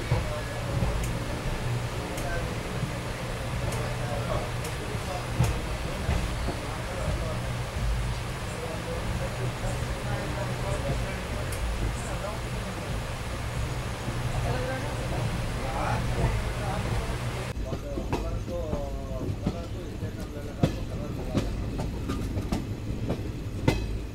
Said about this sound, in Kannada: ಇದು ನಮ್ಮ ಟ್ರೈನ್ ಸಕ್ಕರೆಪಟ್ಟಣ ರೈಲ್ವೆ ಸ್ಟೇಷನ್ ತಲುಪಿದೆ